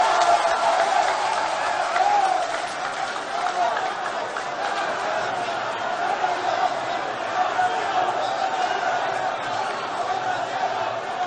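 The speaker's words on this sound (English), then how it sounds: "help me welcome the national chairman of the National Democratic Congress, Honorable Johnson Asiedu Nketia," A large rally crowd at a National Democratic Congress event cheers and applauds steadily as the party's national chairman is welcomed to the stage, a dense, continuous wash of clapping and shouting.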